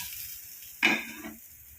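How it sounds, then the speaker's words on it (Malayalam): One quick spatula stroke stirs a thick masala curry in a pan, a short scraping sizzle rising briefly above a faint background simmer. "എന്നിട്ട് നമുക്കതൊന്ന് ഇളക്കിയെടുക്കാം."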